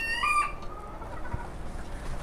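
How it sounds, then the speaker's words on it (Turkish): Silver Brakel hens in a backyard coop give one high, brief clucking call at the start, followed by quiet farmyard background noise with no talking. "Bunlar da Silver Brakel anaçlarımız."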